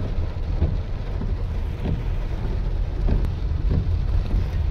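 Steady, heavy rain pours down continuously on a road in Kuwait with slowed traffic, low rumbling underneath and occasional louder swells.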